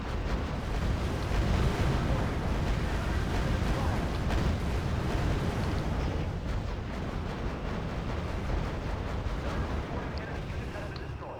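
Tank battle in the strategy game R.U.S.E. with a continuous rumbling wash of explosions and artillery fire, loud and dense at first and gradually easing, no distinct individual blasts standing out.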